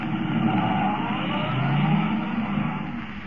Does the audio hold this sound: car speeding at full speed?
yes